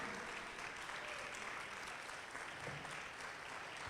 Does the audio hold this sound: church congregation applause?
yes